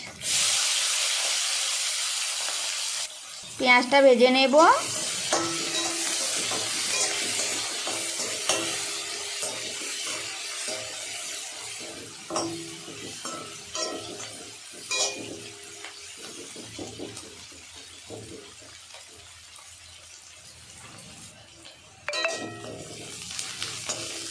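Chopped onion drops into hot oil with green chilli, whole cumin and bay leaves, bursting into a loud sizzle, then settling into a steady frying hiss with scraping stirs and occasional spatters, and the sizzle swells again near the end.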